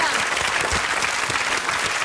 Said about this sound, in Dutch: Je krijgt nu al een applaus.